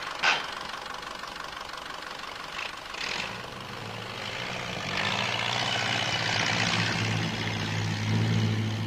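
A Ferguson TE20 tractor engine runs steadily as a first-time driver takes it out, a continuous low mechanical drone that grows slightly louder and rougher partway through, with no voices over it.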